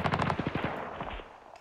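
Gunfire in a World War II strategy game, a rapid burst of machine-gun shots crackling close and loud for under a second, then fading into a decaying rumble.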